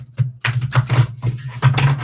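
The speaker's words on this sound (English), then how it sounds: "So I'll try to bridge shuffle them, but it's a very difficult deck" A deck of cards being bridge shuffled, heard as several short, close riffling bursts with a few separate flaps and gaps between them.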